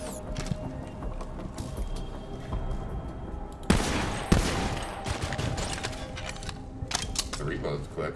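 Rapid bursts of gunfire from a hard-recoiling gun in the video game Borderlands 3, dense and continuous with a couple of sharp louder shots, heard under someone talking.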